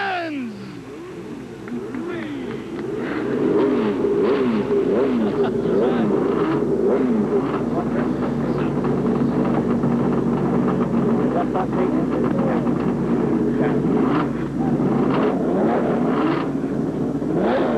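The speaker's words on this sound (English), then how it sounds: "start your engines!" IndyCar (CART) race car engines fire up and roar together at Cleveland in 1989, a loud dense rumble swelling after the first seconds and holding steady with shifting revving tones.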